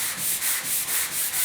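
A 320-grit sanding block rubs by hand across glaze on a 1956 Mercury door in quick, even back-and-forth strokes, a close, rhythmic scratchy hiss with about six passes.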